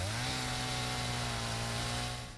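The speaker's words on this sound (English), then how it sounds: "So when you're using a chainsaw, it does cut off stuff around it as well" A chainsaw in the video game Satisfactory cuts through trees with a loud, steady buzzing whine that holds throughout and fades slightly at the end, with no talk.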